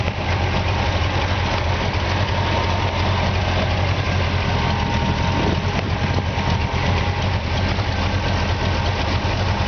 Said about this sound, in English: I mean, the engine runs great.